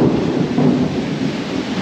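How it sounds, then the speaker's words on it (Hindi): Loud rumbling storm noise with rain in Singapore, heard from a high floor, a deep continuous roar that swells briefly, sounding close and heavy. "तो बारिश स्टार्ट हो चुकी है यहाँ पे"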